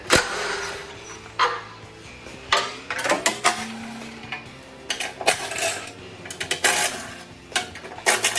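Hand ratchet loosening 13 mm bolts on the front skid plate of a 2021 Jeep Wrangler Unlimited Rubicon 4xe, heard as bursts of metallic clicking and clanking at close range, with brief pauses between.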